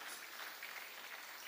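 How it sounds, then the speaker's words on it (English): Audience applause at a jazz and arts festival concert, a brief steady wash of clapping, fairly faint and distant, with no voices over it. "How about another round of applause for Matt Cattengoob and Rachel Wilson?"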